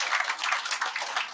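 An audience at a campaign office opening applauds to welcome a former agriculture minister: a short burst of dense, fairly close clapping with no voices over it.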